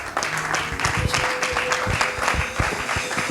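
A church congregation breaks into lively applause mixed with cheering and acclamations, brisk clapping with vocal shouts filling a few seconds close by.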